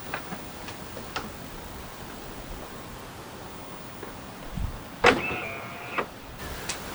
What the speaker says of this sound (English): we'll see if the boot comes down, see if it soft closes, and we'll try the roof